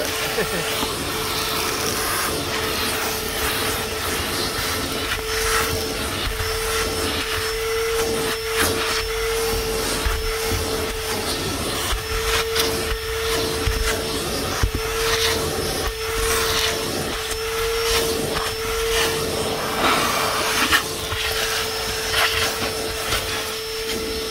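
A Dewalt 9 gallon wet dry shop vacuum running continuously up close, a loud steady whirring roar with a constant motor whine and slight fluctuations in suction noise throughout.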